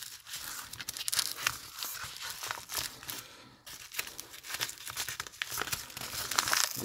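A plastic packet holding a Land Rover door lock motor is crinkled and torn open up close, a dense run of crackling and ripping with a short pause midway.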